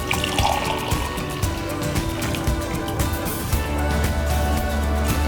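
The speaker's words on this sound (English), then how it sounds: "Pour it into your cup." Peppermint mocha latte pours steadily into a cup with a continuous splashing trickle, close by, over faint background music and no talking.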